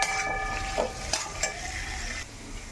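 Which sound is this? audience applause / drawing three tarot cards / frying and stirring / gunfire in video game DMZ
frying and stirring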